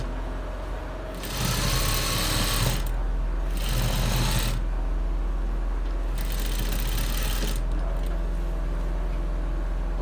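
A sewing machine top-stitches a trouser side-pocket lining in three loud, whirring bursts of rapid stitching, separated by brief pauses, over a constant low hum.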